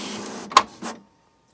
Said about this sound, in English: I'm going to put it in my printer, and I'm going to print the image out